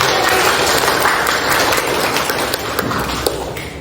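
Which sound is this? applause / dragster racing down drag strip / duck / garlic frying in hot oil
applause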